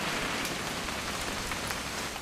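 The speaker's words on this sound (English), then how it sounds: "It's gonna rain the whole weekend," Rain falling in the game What Remains of Edith Finch: a steady, dense hiss of rain on surfaces with scattered droplet patter, continuous and even for a couple of seconds, with no voices.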